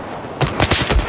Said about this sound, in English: I shotgun him twice and no hit markers